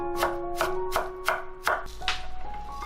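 A knife finely chops peeled fresh water chestnuts on a board with about six evenly spaced, crisp strikes, close and fairly quiet, without speech.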